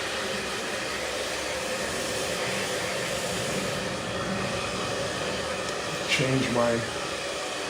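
A hair dryer set to high heat and low airflow blows steadily while hair is styled with a round brush, a continuous whooshing hiss under a brief, quiet spoken phrase near the end.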